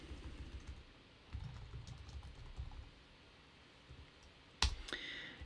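Quiet typing and clicking on a computer keyboard during a Flutter coding demonstration, faint scattered keystrokes with one sharper click near the end, no talk.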